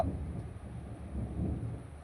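Thunder during a rainstorm, a low, faint rumble rolling steadily in the distance with soft rain-like hiss and no voices.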